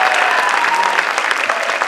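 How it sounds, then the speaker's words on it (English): Concert audience at a high school spring showcase applauding teachers, loud dense clapping filling the room steadily, with faint voices mixed in. "so we can clap for them."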